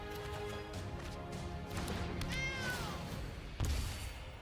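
A cat token in the Magic: The Gathering video game gives a single drawn-out meow with a falling pitch, set against steady game music, followed by a short thud.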